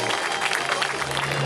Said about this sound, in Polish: Poproszę jeszcze raz o brawa dla Bogdana Bogusława Lindy na Shadow and Stardust